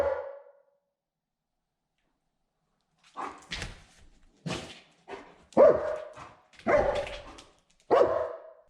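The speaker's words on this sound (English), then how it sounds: "the dog's job is to bark at them" A police patrol dog barks in a string of sharp, loud barks close by after a brief whimper and a pause, the barks coming in irregular bursts.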